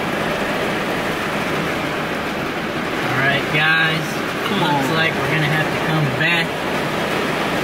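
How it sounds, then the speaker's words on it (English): Heavy rain pours down outdoors on an overgrown yard under makeover, a steady broadband hiss that runs through the whole stretch while someone talks over it. "it's raining cats and dogs on us"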